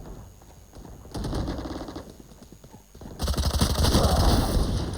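Gunfire in a first-person shooter video game: rapid bursts of close, loud automatic shots in two main spells, with heavier continuous fire toward the end, and no clear talking over it.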